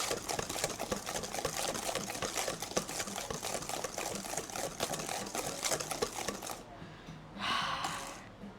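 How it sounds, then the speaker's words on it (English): A thick white Eton mess mixture being whisked by hand in a bowl, a fast continuous scraping and tapping rhythm that runs steadily, then pauses with a brief final stir. "How long have I been whisking this for now?"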